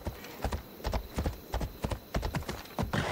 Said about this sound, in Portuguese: A cavalo.